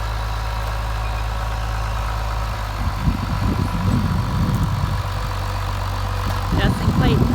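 A 1979 International Harvester 686 tractor engine runs at a steady low drone while laying black plastic on a farm field, with muffled voices or clatter rising over it in the second half.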